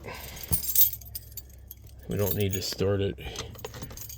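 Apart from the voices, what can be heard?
keys jangling in a pocket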